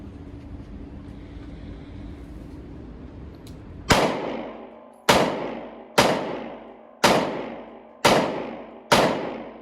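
Six sharp, loud shots from a 2020 Colt Python revolver being test-fired, each a crisp crack with a decaying echo, spaced about a second apart after a quiet start.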